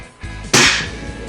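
A Tech Force 97 underlever air rifle fires downrange with a single sharp crack, preceded by a faint click and followed by a short ringing decay, close and loud.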